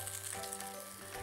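Rice roasts and fries in a pan for a Tamil tempered-rice dish, giving a steady, close, continuous sizzle with faint stirring scrapes and no voices.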